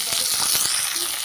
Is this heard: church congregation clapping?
no